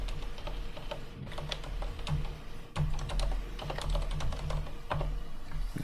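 Steady, close typing on a computer keyboard, with rapid uneven key clicks and occasional heavier strokes over a constant low hum.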